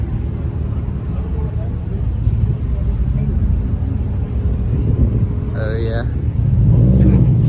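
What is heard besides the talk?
BMW E30 with N54 single turbo engine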